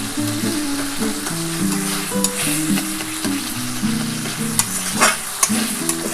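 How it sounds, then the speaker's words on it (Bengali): Bengali spice paste for a parshe fish mustard curry sautéing in a pan, giving a steady close sizzle and stirring texture with a few sharper scrapes, under melodic background music. "মশলাটা হালকা করে কষিয়ে নিলাম"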